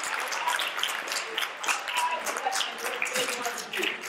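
Audience applause for interns at an NBA Centennial Commission event, a moderate, steady patter of many hands clapping in a hall, fairly even throughout.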